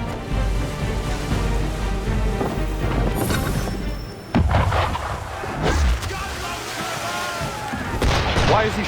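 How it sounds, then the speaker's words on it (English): Gunfire aimed at a ship in Assassin's Creed III, loud booming shots and crashing impacts over steady wind and sea noise, with a voice speaking among the blasts. "Why is he shooting at us?"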